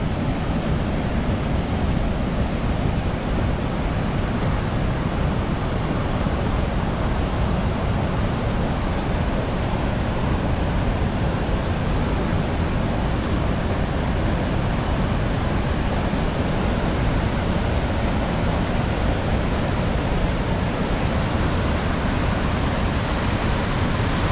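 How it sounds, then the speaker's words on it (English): Steady, dense rush of falling water from a waterfall at a campground on the Canadian shore of Lake Superior, a constant broadband roar filling the whole stretch with no pauses and no voices. "It's cool that the campground involves a waterfall too."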